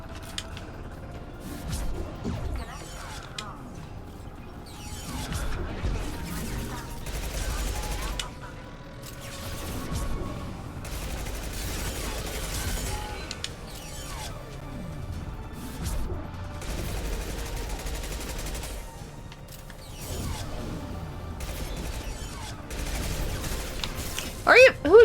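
Scattered gunfire in a Mass Effect 2 firefight, bursts of shots and impacts repeating in clusters across the stretch amid game sounds, with a player talking intermittently over the action.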